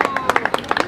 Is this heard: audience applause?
yes